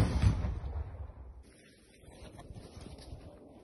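A weapon is fired at Russian tanks in a field in Kyiv region, a loud blast-like burst at the start that decays into a rumbling, wind-buffeted tail.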